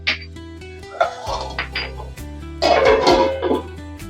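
A metal lid clinks onto a cooking pot of boiling egg gravy, producing a few sharp clattering knocks of metal on metal close by, followed by softer rattles.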